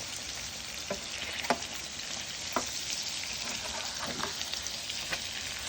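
Salmon pieces searing in a pan for salmon in cream sauce, giving a faint, steady frying hiss broken by a few soft clicks and taps, no talking.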